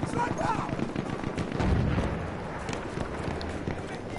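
Dense gunfire in a PS4 shooter game rattles in fast bursts and single shots, loud and continuous with running footsteps and effects in the mix, and no clear talk.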